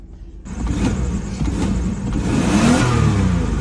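A Volkswagen New Beetle 2.5 engine cranks and catches after a brief silence, then revs loudly and steadily, rising in pitch toward the end.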